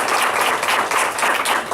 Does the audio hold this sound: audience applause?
yes